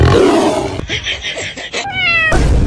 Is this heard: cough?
no